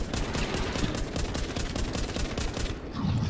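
Rapid gunfire from The Walking Zombie 2 video game, with dense repeated shots in fast bursts, loud and continuous throughout, with no talk over it.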